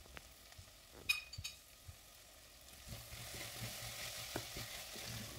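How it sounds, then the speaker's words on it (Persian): Maqluba ingredients sautéing in a pan with a spoonful each of paprika paste and tomato paste, a steady soft sizzle with occasional stirring scrapes and clinks, close by and with no talking. "همه مواد رو با هم دیگه تفت میدی."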